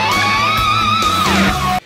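Distorted electric guitar plays a fast legato lead phrase with bending and sliding sustained notes, loud and upfront with no talking.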